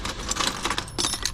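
Metal keys jangle and clink repeatedly while scrap non-ferrous metal is sorted by hand, a steady run of close, bright metallic rattles with several sharper clusters.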